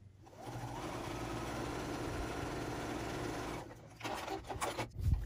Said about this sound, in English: As easy as that to just stitch along there.